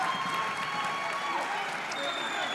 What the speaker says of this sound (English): You can hear the crowd, Jim. The crowd is into this game.